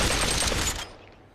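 Rapid gunfire from a recoiling weapon in the VR shooter Population One, a loud dense burst of shots lasting under a second, then fading into a brief tail.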